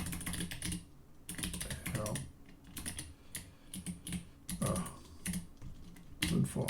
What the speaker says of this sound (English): So you can enjoy me typing this as we go.